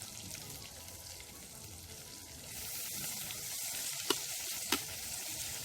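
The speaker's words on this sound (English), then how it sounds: "So I'm going to saute in some of the seasoning for a minute. Then I'm going to add in the salt mackerel." Seasoning and salt mackerel sauté in a pan at an outdoor cooking setup, producing a constant crackling sizzle that grows slightly louder midway, with two sharp utensil taps near the end.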